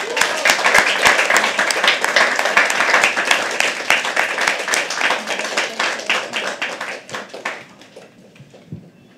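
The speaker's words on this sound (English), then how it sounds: "Now I can sense that you guys have been clapping a lot" An audience at a live poetry open mic claps steadily and enthusiastically, a dense close patter of hands that gradually thins and fades toward the end.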